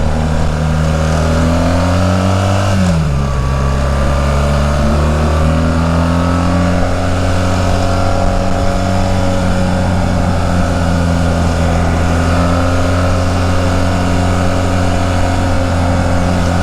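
A BMW motorcycle on a winding downhill road from Tagaytay to Talisay drones along under steady throttle, the engine note dipping once then climbing and holding, loud and close with wind noise and no talk.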